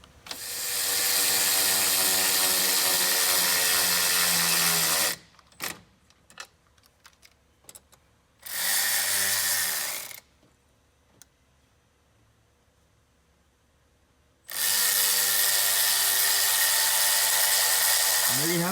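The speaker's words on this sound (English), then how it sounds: "I'll grab a nut for that and we will tighten everything up." Nuts being tightened on a Hungry Diesel 3-inch intercooler piping kit: three long, loud, close whirring runs of a powered ratchet-type tool, separated by scattered sharp clicks and taps, with no talking.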